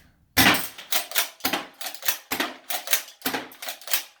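A CYMA CM.361 full metal airsoft pump shotgun is being loaded, giving about ten sharp, close mechanical clicks in a quick, uneven rhythm after a brief moment of quiet.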